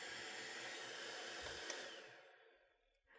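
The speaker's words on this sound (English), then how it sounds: "I think that's a really nice fan though, and it is definitely strong." A small Sanrio electric fan runs on its highest setting with a strong, vacuum-like whooshing roar, close and steady before winding down and fading toward the end.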